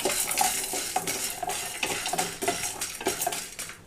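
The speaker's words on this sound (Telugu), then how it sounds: "అలాగే ధనియాలు 1 స్పూన్ వేసి వేయించుకుంటున్నాను। వీటితో పాటుగా పచ్చిపప్పు 1 స్పూన్ కూడా వేస్తున్నాను।" Coriander seeds and chana dal dry-roast in a pan over low flame, with steady rhythmic scraping and rattling of the seeds as they are stirred, close and moderately quiet, with no talking.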